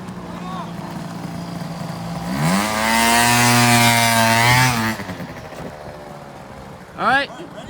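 A red motorbike's engine revs up from idle, holds a loud buzzing roar for a couple of seconds, then drops away, with a short second rev near the end; people talk around it.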